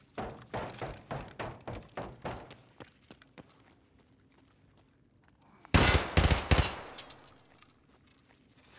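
Pistol gunfire in Escape from Tarkov: a rapid string of sharp shots, roughly a dozen evenly spaced, then a quieter stretch of scattered thuds and clicks before another loud close burst of several shots.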